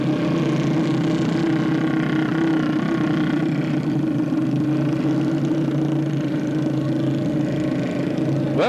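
Small engines of the Harley 74 Shriners' mini motorcycles idle and rumble steadily at close range during a 1976 Dairy Festival parade, a continuous low drone with slight shifts in pitch and no talk.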